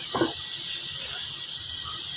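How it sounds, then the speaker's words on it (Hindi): Whole spices for a tempering (chhaunk) sizzle in hot oil in a home kitchen, a loud, steady hiss that runs throughout, with a brief low thud near the start. "तो अपना छौंकने जा रहे हैं"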